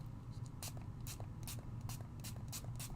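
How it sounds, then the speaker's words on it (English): Neon spray paint hisses in short repeated bursts onto flowers, about seven quick sprays at a steady rhythm over a low background hum, fairly close and moderately loud. "I'm going to take some of the neon sprays, and that's how I'm going to spray this."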